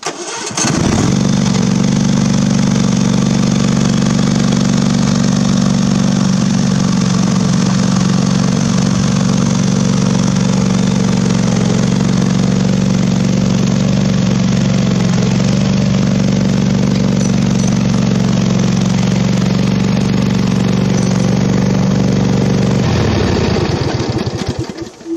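A Husqvarna zero-turn mower on small ATV tires clogged with clay runs at a steady, loud drone for over twenty seconds, its low engine hum unbroken until it cuts off near the end.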